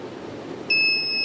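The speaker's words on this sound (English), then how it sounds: "So see, it's buzzing" A buzzer on a homemade Arduino IR-sensor burglar alarm starts abruptly and holds a loud, steady electronic tone over low room noise.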